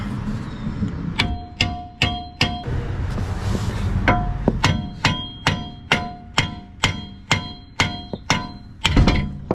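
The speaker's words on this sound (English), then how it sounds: "Take that sledge, hit the knuckle, just twist this a little bit." A sledgehammer strikes the steering knuckle of a Dodge Charger during lower control arm replacement, about a dozen loud, sharp metallic blows in an uneven rhythm, with a brief scraping pause between bursts.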